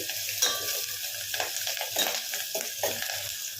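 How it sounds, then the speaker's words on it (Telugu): Ginger, garlic, green chillies and curry leaves fry in hot oil, giving a loud, dense sizzle with quick stirring strokes of a spoon against the pan. "అల్లం, వెల్లుల్లి రెబ్బలు, పచ్చిమిర్చి, కరివేపాకు ఇట్లా ఒక 2 నిమిషాలు వేయించుకోండి."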